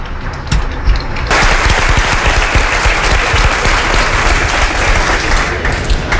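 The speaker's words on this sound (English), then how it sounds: "a big round of applause for our author" A large audience at a literary event for an author breaks into sustained applause. It begins suddenly after a brief moment and stays dense and steady throughout, with no talk over it.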